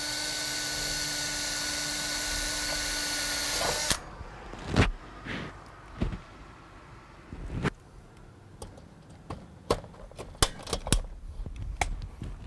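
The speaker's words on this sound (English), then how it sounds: "Then drill and rivet from the inside using short rivets." A greenhouse frame being assembled, with a steady drill whine for a few seconds, then scattered sharp snaps as short rivets are set from the inside, all close and with no talking.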